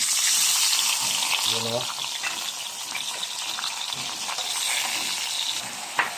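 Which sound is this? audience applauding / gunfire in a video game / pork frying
pork frying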